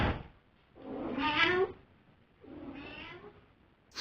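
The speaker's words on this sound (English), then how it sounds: "just pegged it to the door, meowing for food" A cat meows for food by a door, two clear, fairly close drawn-out meows separated by a pause, with a short sound starting at the very end.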